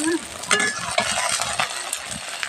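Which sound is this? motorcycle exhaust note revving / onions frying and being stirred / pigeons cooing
onions frying and being stirred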